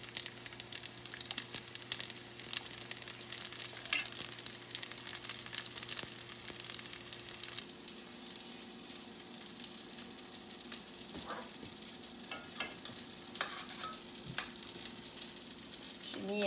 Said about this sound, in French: J'ai mis un petit peu d'huile canola juste avant de les faire frire. On les fait frire chaque bord un petit peu